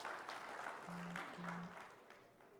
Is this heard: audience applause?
yes